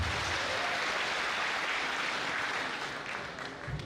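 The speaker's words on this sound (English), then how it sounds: "Give yourselves a clap." Steady applause from a university crowd at Lukenya University in Kenya fills the air as a dense, even wash of clapping that fades slightly near the end, with no voices over it.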